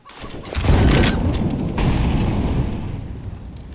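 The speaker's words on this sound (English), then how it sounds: "Grenade." A grenade blasts in a CS:GO match, one loud, close boom that swells and rolls off over a few seconds with a second burst of rumble midway, no talking.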